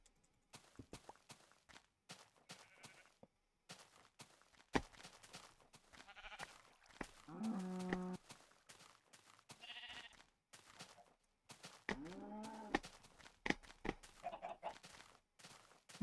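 Several Minecraft sheep bleat in short, separate calls across open plains, with quiet game clicks and footsteps in between and no voices.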